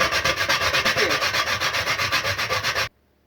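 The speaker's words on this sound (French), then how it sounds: "pour commencer, je dois gratter la noix de muscade ici" Nutmeg scraped over a grater in fast, even strokes, close up and loud, roughly three seconds of steady rasping that stops abruptly.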